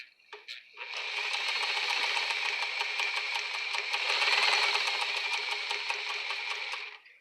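A Singer 237 sewing machine, made in Monza, Italy, runs steadily for about six seconds with a fast, even needle clatter and motor whir, close up, after a couple of brief clicks at the start.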